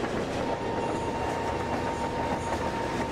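An Indian Railways Intercity Express running at speed under full throttle in the Open Rails train simulator gives a steady, loud rolling drone with a faint high whine and no talk.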